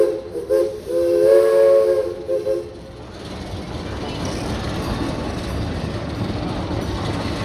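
A steam train at Cedar Point amusement park sounds a short whistle and then rolls past with a broad rumbling hiss, fairly close, with no talking.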